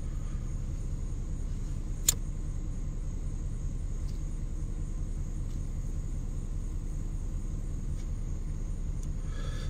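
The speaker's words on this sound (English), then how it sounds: "Man, my car sounds sexy as fuck." A car engine idles with a steady, deep rumble that holds evenly throughout, close and continuous with no voices over it.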